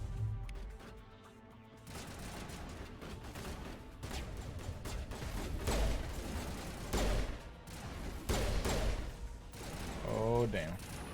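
Gunfire in the Mass Effect video game: repeated loud shots and impacts in uneven bursts, mixed with clattering mechanical noise and some game sound effects throughout.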